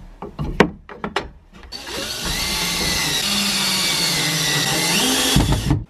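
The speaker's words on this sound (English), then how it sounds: "Next step is to put the bracket on and just screw it in." A power drill drives screws through a curtain rod bracket: a few sharp knocks first, then a loud, steady whirring run of about four seconds that stops abruptly.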